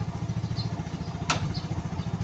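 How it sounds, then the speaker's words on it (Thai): Honda Spark 115 motorcycle engine idling in neutral, a steady low pulsing throb with a brief sharp click partway through, close by with no talking. "เครื่องยนต์ติดนะครับ ตอนนี้อยู่เกียร์ว่างนะ"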